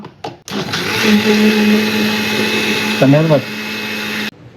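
A kitchen mixer grinder runs with a loud, steady whir after a brief start-up, with a voice speaking briefly over the motor before it cuts off.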